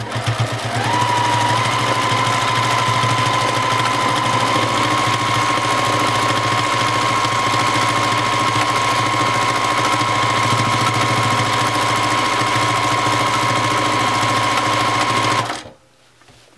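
A domestic sewing machine runs at steady high speed during free-motion stippling on a quilt border, a loud, continuous whirring drone with a noticeable mechanical rattle that cuts off abruptly near the end.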